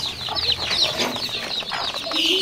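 A crowd of brooded desi chicken chicks at a poultry farm peep and cluck in a constant, dense, high chorus, close by, with no talking.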